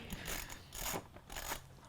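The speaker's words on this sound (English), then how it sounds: "Taking the indicator off, mate." Small mechanical clicks and ratcheting taps during indicator removal on a baby Aprilia two-stroke motorcycle, a few quiet bursts of tool work, close and faint, with no talk.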